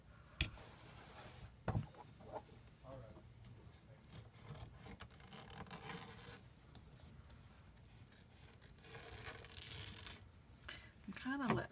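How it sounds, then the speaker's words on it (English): Scissors snip through lace trim at the end of a piece of fabric while covering a binder, giving soft, rasping cuts that are quiet and close, with a voice talking over them. "the scissors just cut it"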